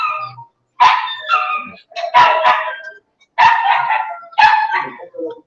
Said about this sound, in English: Another dog. Where do these dogs come from?